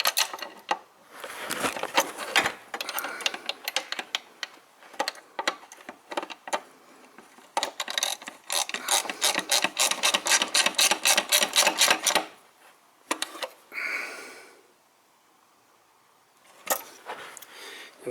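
A ratchet tightens a bolt on a VW Touareg TDI intake, where the bolt goes into plastic with a brass bushing. Bursts of rapid metallic clicking come in uneven runs separated by short pauses.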